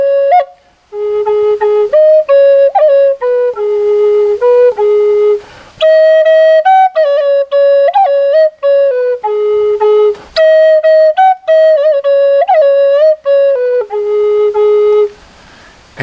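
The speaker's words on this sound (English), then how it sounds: "So it sounds like this on the flute." A Lakota flute plays a traditional song, with a clear, breathy melody of sustained and sliding notes and short ornaments, loud and close, running without a break and with no voices.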